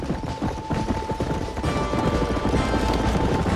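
Rapid clip-clop of a horse galloping in the Old West game Red Dead Redemption on Xbox 360, close and loud, a steady driving rhythm of hoofbeats over a busy background.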